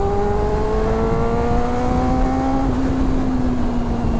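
A high-pitched Honda Fireblade 400cc sports motorcycle engine holds a steady rev with a slowly rising whine while cornering, loud and continuous, then eases slightly lower toward the end.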